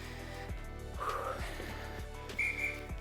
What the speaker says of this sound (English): That little whistle tone's your reminder that, hey, it's water time, girl.